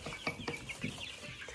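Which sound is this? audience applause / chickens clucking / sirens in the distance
chickens clucking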